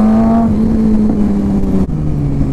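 Suzuki GSX-R sport motorcycle exhaust revving loudly and close, a steady droning engine note that rises then drops briefly near the end before settling into a lower idle-like drone.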